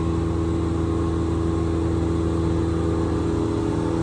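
2005 Haas VF4SS CNC mill spindle spinning at about 6000 RPM, a loud steady whirring drone with constant tonal hum and no speech.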